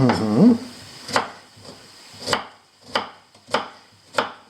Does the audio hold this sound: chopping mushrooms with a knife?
yes